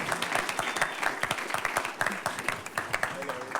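Applause and cheering from a conference audience greeting the Netherlands ambassador at the UNAIDS World AIDS Report launch in Geneva, a dense steady patter of clapping with scattered whoops, fairly close and lively throughout.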